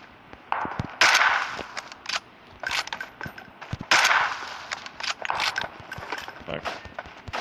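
Gunfire at a training bot in PUBG Mobile, a series of sharp, loud shots and metallic clanks in irregular bursts, close up, with some faint voice underneath.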